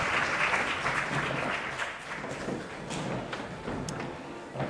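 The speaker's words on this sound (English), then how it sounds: "Let's give them a big round of applause, ladies and gentlemen" An audience at a high school quiz competition applauds the teams after a round, moderately loud clapping that thins and softens toward the end.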